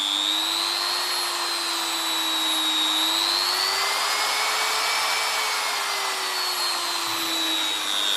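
A milling router motor spinning at high speed gives a steady, loud, continuous high-pitched whine with a strong tonal hum that drifts slightly in pitch, running alone throughout.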